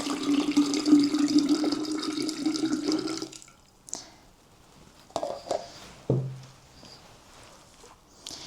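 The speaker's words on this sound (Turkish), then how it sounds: "Hunimizi aldık birlikte birazcık suyumuzu kattık." Water is poured into a funnel for a baking soda and vinegar volcano experiment, a steady splashing trickle for about three seconds, then a few scattered clinks and handling knocks.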